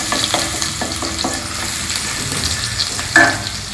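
Crushed ginger and garlic hitting hot oil in a pot for vegetable pulao, a loud close sizzle broken by quick repeated stirring scrapes and a brief sharper clatter near the end.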